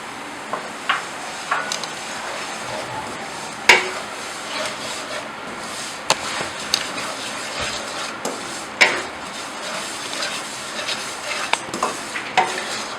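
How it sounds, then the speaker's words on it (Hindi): Semolina is stirred and roasted in hot oil left from frying dry fruits. A soft sizzle sits under scattered clinks and scrapes of a spoon against the pan, fairly quiet and close, with no voices. "इसी गरम ऑयल में जो है हम सूजी डाल देंगे।"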